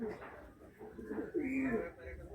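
Pigeons coo in a loft near a female bird, a low rolling coo rising clearly in the middle and set among soft background chatter.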